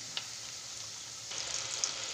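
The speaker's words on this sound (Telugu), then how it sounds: "ఇంతకుముందు ఇలా వేగుతున్నాయి కదండి" Cabbage 65 pieces fry in hot oil, giving a faint, even bubbling sizzle that swells slightly partway through, with one small tap near the start and no voices.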